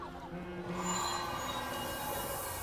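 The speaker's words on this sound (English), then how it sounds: "Amidst the panic, the train exits the tunnel." Train in the Under Deepspace video game rolling out of a tunnel, wheels squealing and rails rumbling in a loud, sustained rush that swells and then holds steady.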